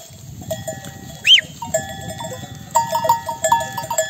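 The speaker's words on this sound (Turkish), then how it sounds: "Koyunlara da çanları taktık yaylada." Bells hung on sheep grazing in a lush highland pasture clank and tinkle in irregular, overlapping rings, close by and clear, with one sheep bleating briefly amid the low rustle of the flock.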